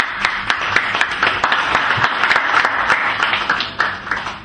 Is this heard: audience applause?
yes